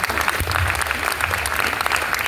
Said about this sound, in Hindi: सही कह रही हूँ तो तालियां बजाओ।